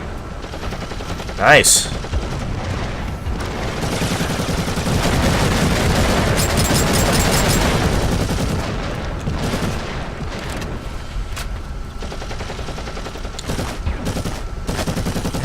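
Heavy bolter fire in Warhammer 40,000: Eternal Crusade, a dense battlefield roar of automatic gunfire with booming impacts that swells, holds, then thins to scattered shots, with a brief voice in between.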